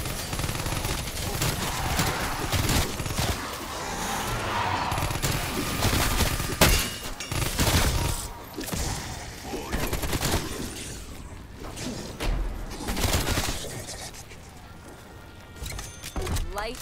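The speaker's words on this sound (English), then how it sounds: "Light machine gun." Rapid light machine gun fire in the Call of Duty zombies map Mauer der Toten rattles through a busy, noisy game mix, with voices talking over and between the bursts.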